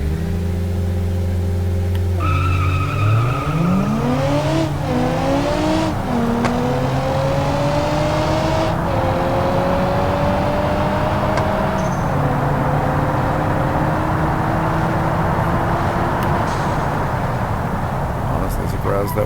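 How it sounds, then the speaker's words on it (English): In the BeamNG video game, a car launches in second gear and its engine revs climb loud and near, with pitch rising through gear shifts, while a voice talks over it. "Try a second gear launch here."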